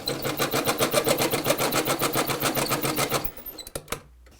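Sewing machine stitching a fabric face mask, running in a fast, steady rhythmic chatter for about three seconds before slowing and stopping with a few last clicks, close and alone.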